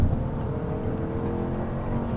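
Jaguar Project 8 road car, driven hard on a racetrack, with a loud, steady engine bellow holding close and continuous throughout and no voices over it.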